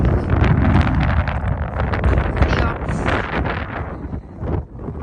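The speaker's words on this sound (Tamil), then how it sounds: "காற்று சரியான காத்து அடிக்குது" Strong gusts buffet the microphone at Liverpool beach in the UK, a loud, continuous roaring rumble that swells and dips throughout.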